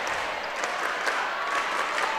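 Fans and students clap in the stands during a high school girls' volleyball quarterfinal, a steady, dense wash of applause that runs evenly across the whole stretch at moderate distance, with no voices standing out.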